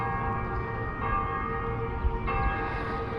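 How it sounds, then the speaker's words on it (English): Church bells ring from a tower in Pisa, Italy, and the tones hang in sustained, layered chimes over a low outdoor hum. The bells sound moderately distant, with no talking. "Church bells ringing there."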